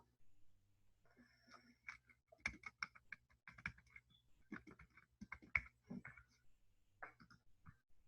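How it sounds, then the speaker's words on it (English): Brisk typing on a computer keyboard, a quiet close run of uneven key clicks with short pauses between bursts, while text is entered on a design artboard. "I'm going to go ahead and type that out so that it's on the artboard"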